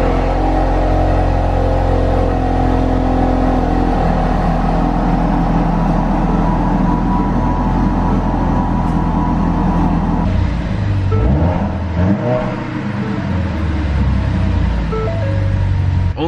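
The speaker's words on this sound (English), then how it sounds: "let's go ahead and do a cold start so you guys can hear what this car sounds like" Cold start of a stock 2018 Ford Focus RS with only a drop-in air filter: a steady, loud high-idle drone that holds for a while, then dips and settles lower near the end.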